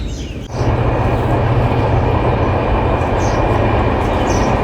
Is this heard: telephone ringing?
no